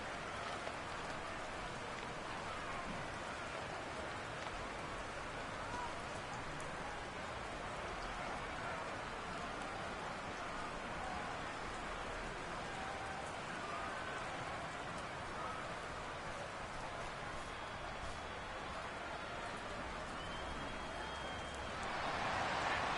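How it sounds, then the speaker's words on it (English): Steady rain in the second half of a Browns vs Steelers NFL game in Madden 23, a constant hiss of falling drops on a surface at low level, continuous and unchanging for over twenty seconds. "The rain set to continue as we are underway in the second half from the 10."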